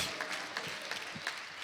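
A church congregation applauding during a sermon, fairly quiet clapping with a few sharper claps standing out, heard at some distance.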